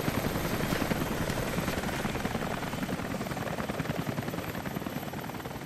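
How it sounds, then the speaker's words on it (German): A helicopter's rotor in the video game Rise of the Tomb Raider thumps steadily and loudly for several seconds, a constant chopping drone with broad noisy rush and no voices. "Dass ich einen Hubschrauber höre, ist nicht gut"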